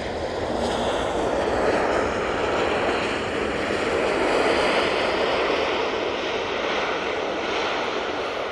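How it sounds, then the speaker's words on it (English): An Emirates airliner rolls onto the runway at Manchester Airport, its jet engines giving a loud, steady roar with no pause. "Don't worry, the Emirates is just coming onto the runway."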